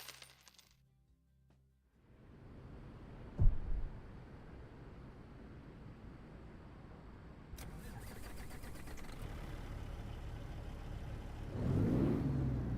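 Truck engine fitted with a 625 King of the Hill engine in a video game: a thump, then a loud, steady engine drone that swells into a heavier rev near the end, with no talking.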